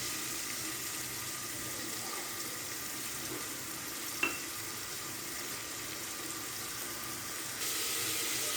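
An onion sautés in melted margarine in a pan, giving a steady, even hiss throughout with one small clink partway through and no voices.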